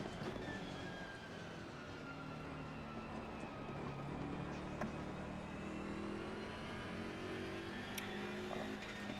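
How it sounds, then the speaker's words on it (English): A GT4 race car in Assetto Corsa Competizione drones steadily at a distance, its engine note rising and falling through gear changes under a constant wash of track noise, with no voices. "GT4 car sound."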